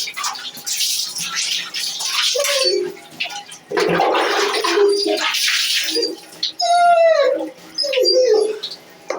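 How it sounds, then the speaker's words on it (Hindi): Water splashes and pours over a dog during a bath at home, coming in loud bursts broken by pauses, with the dog's high whines and yelps rising between the runs of water. "देखो कैसा गंदा गंदा पानी निकल रहा है सैम के अंदर से"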